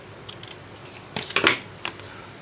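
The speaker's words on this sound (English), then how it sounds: "Snip this bit here." Scissors snip scrap paper during a papercraft project with a few light, quick cuts. One louder crisp snip stands out, close and quiet, with no voices.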